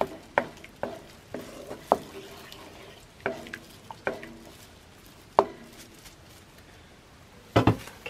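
Jackfruit being stirred in a pan while cooking biko, a sweet Filipino sticky rice dish, with a utensil scraping and knocking in a series of distinct close taps over a low sizzle and no talk.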